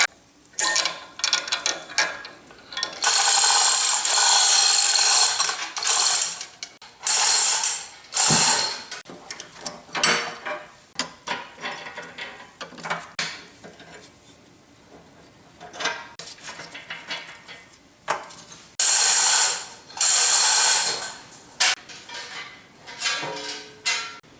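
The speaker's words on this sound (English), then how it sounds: "before that gets too loose, I'm going to hook up my high-tech hoist" A ratchet hoist clicks in repeated bursts of rapid, loud ratcheting with pauses between pulls while frames come off a Yates American B244 machine, close and mechanical with no talking.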